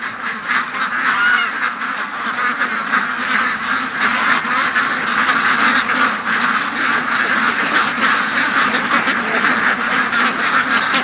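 A flock of farm ducks quacking continuously and loudly nearby, many overlapping calls forming a dense, steady chorus with no speech.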